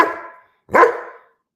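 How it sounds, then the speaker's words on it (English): A dog gives two loud, close barks indoors, a short one at the start and a stronger one after a brief pause, each trailing off quickly with no talk around them. "He is a mean dog sometimes."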